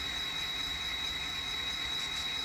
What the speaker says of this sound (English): You can hear that turbo being gear driven at low RPM, singing away.